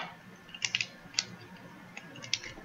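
A Wacky Tracks fidget toy made of linked snapping segments is bent and twisted by hand, giving a handful of small sharp clicks in an irregular pattern, close and fairly quiet over faint background noise.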